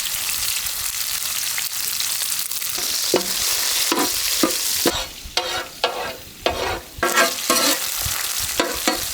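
Small onions fry in a pan for a village-style pirandai gravy, a loud continuous sizzle joined midway by a run of rhythmic scraping stirs, with no voices.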